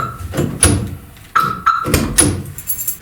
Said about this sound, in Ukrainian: появився такий дзвінкий звук роботи замка, є такий звучок